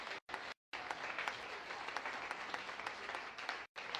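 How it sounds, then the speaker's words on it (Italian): Audience applause at a Rifondazione national party festival closing rally, a dense steady patter of many hands with brief dropouts, fairly faint and distant. "Chiederei qui veramente un grande applauso per tutti i compagni e compagne"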